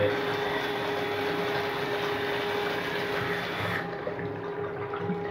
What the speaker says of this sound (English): It's concealed siphon jet this time. Flush something down it.